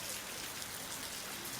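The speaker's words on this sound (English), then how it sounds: "You're in the rain," Steady rain falls in a Costa Rican forest, a dense, even hiss of drops on leaves filling the whole clip without a break and with no voices.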